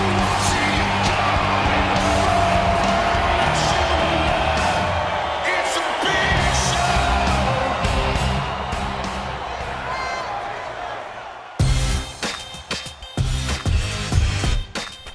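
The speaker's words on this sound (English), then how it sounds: "The crowd reaction at Pop was ridiculous. Ridiculously loud." A wrestling arena crowd roars loudly and continuously for the Big Show's entrance, a dense wall of cheering and yelling that thins slightly before breaking into sharper bursts near the end.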